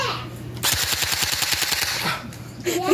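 A new gun fires a rapid burst of about a dozen evenly spaced shots, loud and close, with quieter sounds before and after.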